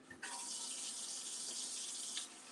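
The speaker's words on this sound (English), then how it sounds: "I turn on the hot water" Hot water runs steadily from a kitchen tap into a sink, a continuous close hiss and splash that starts abruptly after a brief quiet moment and carries on evenly throughout.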